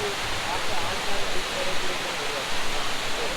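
Rain-fed hill water tumbling down a waterfall behind a park in Kodaikanal gives a continuous, dense hiss and roar, steady in level throughout the short stretch.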